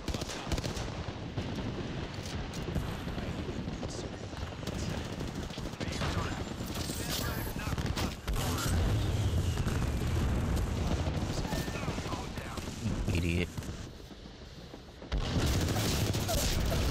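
Gunfire in the Apex Legends video game rattles in dense, sustained bursts, briefly dropping off near the end before resuming loudly.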